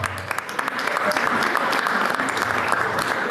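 Audience applause fills an awards ceremony hall for makeup artist Maria, steady dense clapping throughout, loud and sustained with some crowd murmur mixed in.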